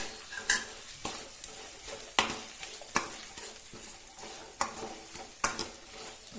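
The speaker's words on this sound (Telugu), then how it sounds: "బాగా ఫ్రై అవనిద్దామండి." Curry leaves and green chilies fry in a pan with a soft sizzle, while a spoon scrapes and taps against the metal in a steady rhythm of sharp clicks.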